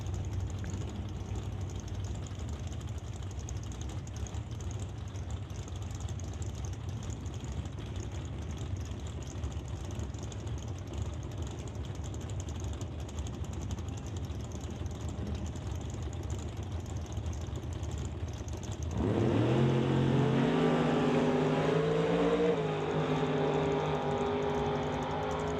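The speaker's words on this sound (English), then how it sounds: "James Kennedy and Langley in the Pontiac Grand Am will race Scott Robinson in the Beretta out of Chilliwack." Drag race between a Pontiac Grand Am and a Beretta at Mission Raceway: a long, steady engine drone gives way near the end to a louder, rising roar of acceleration.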